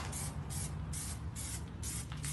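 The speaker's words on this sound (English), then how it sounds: "That means the can that's spraying pretty nice." Plasti Dip aerosol can spraying while a car grille is blacked out, a steady close hiss in repeated bursts with short pauses between passes.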